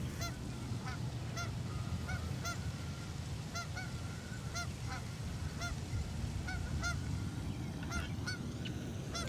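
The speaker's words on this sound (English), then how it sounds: "Hello from me and the geese." Flock of geese outdoors, many repeated honks scattered throughout, some near and some farther off, over a constant rumbling background.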